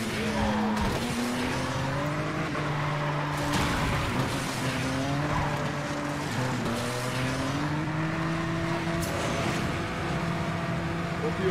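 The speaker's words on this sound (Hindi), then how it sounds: "लैम्बो का साउंड ओके" A Lamborghini in the Asphalt racing video game revs with a sustained engine whine that rises and drops through gear changes, joined by intermittent tire squeals, loud and continuous.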